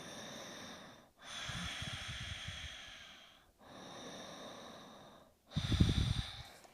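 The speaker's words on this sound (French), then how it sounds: "donc c'est la respiration Ujjayi." Slow ujjayi pranayama breaths in a yoga session, three long hissing, throaty ocean-like breaths close to the microphone, the last one louder and rougher, separated by brief pauses.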